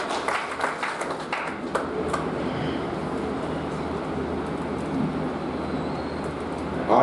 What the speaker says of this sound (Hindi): जरा जोरदार ताली से उनका इस्तकबाल करता हूँ